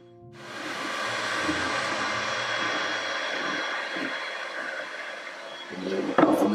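A heat gun blows with a steady rushing hiss, warming the inside of a 3 mm thick resin part for a probe droid hyperspace pod model, with faint handling knocks near the end.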